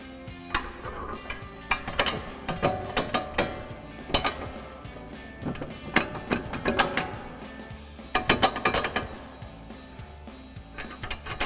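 Mechanical ratcheting and metallic clicks from a jack raising the lower control arm of a 2005-2014 Mustang during a coilover install, coming in irregular bursts of close, moderately loud clanks with short pauses.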